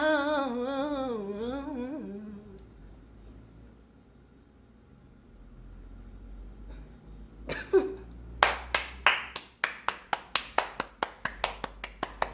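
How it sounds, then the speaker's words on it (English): Single person clapping hands alone, close and sharp. After sung notes fade into near silence, a few scattered claps turn into a steady run of about a dozen evenly spaced claps. "She claps for herself, darling."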